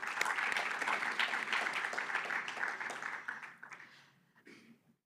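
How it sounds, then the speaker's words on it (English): Graduates at the Cornell Hanga Ahazaza graduation ceremony receive a sustained round of clapping from the audience, dense and steady before thinning out and fading near the end. "So a big round of applause to all of you that have gone through this program."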